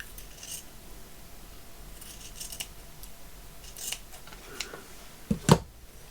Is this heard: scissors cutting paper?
yes